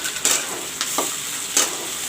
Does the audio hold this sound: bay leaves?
yes